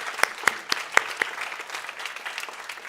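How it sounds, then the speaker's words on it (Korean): At a Sunday church service, a few scattered, sparse claps ring out with gaps between them, then trail off into faint room noise; no steady ovation builds. "우리 같이 격려의 박수를 보내도록 하겠습니다"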